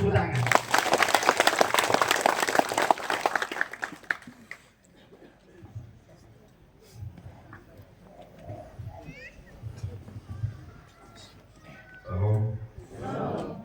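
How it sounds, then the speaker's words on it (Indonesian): Applause greets the Archbishop of Kupang, Mgr. Hironimus Pakaenoni, on his visit to the St. Joseph chapel: a loud, dense burst of clapping for about four seconds, then quieter murmuring and talk with a brief swell near the end. "Kita sambut Bapak Uskup dengan tepuk tangan."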